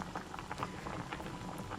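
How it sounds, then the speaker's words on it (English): Potatoes boiling in a pot of water, a steady low bubbling simmer with soft popping bursts, close and fairly quiet throughout. "I just boiled them in some water, enough to cover them"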